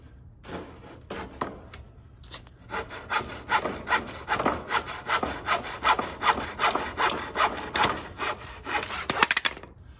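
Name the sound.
hand saw cutting a wooden board in a miter box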